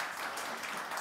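Steady applause from an audience in a committee meeting room, a dense continuous patter of clapping at moderate distance with no break through the short burst.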